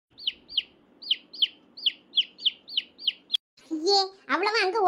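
Cartoon chickens give about a dozen evenly spaced high, bright squawking chirps, close and clear, followed by an animated voice speaking.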